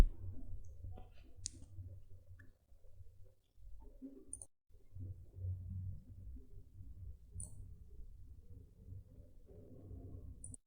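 A computer mouse gives a few sparse, sharp clicks, close and fairly faint, over a low steady room hum with no talking.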